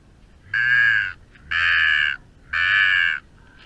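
Three loud, close crow caws in a steady rhythm, each call lasting about half a second with short pauses between, heard at a corvid control spot in the early morning.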